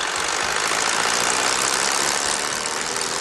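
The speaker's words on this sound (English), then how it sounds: "Allow the engine to idle for a minute or two to warm up." A Vermeer brush chipper's engine idles steadily during warm-up, a constant broadband rumble and hiss at even loudness throughout with no talk.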